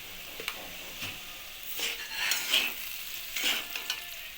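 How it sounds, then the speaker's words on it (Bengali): Vegetables for vegetarian pasta sizzle softly in a pan while a utensil stirs and scrapes in short, uneven bursts, with no voices. "এভাবে কিছুক্ষণ নাড়িয়ে নেবো"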